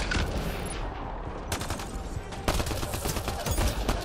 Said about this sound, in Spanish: Justo disparo cuando ya están muertos.